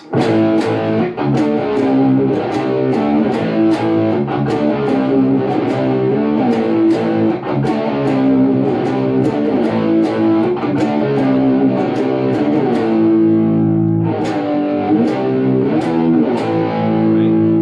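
Low, growling distorted electric guitar plays a sequence of heavy power chords, loud and sustained, with short picked accents and a brief pause near the end.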